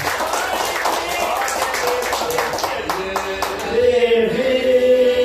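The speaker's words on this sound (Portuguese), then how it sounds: "Uma salva de palmas bem forte para Jesus" A church congregation in Osório claps hard for Jesus, with brisk applause running throughout and growing louder near the end, while a voice and music carry on over it.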